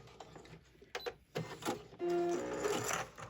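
Brief sewing machine burst back stitching at the end of a seam on a small cosmetic pouch, preceded by clicks and handling noises, close and fairly quiet.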